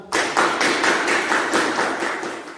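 A class claps together for a student group in a classroom lesson, a brisk rhythmic run of loud, close hand claps lasting a couple of seconds with no speech.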